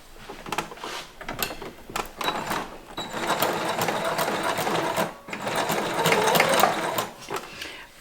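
A sewing machine stitches elastic into the corner of a fabric mask in quick bursts of rapid needle chatter, stopping and restarting a few times, close and moderately loud.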